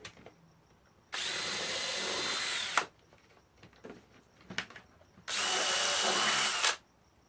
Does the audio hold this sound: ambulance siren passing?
no